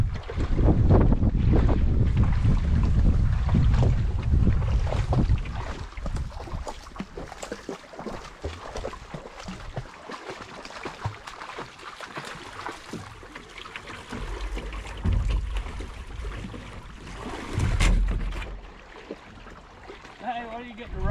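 A canoe is walked up a shallow, rocky wilderness brook, with close, loud sloshing water and scraping under steady wind rumble, easing off partway through before another surge of splashing.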